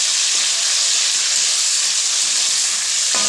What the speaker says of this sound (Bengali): আমি মাছটা একটু ভেজে নিচ্ছি অল্প করে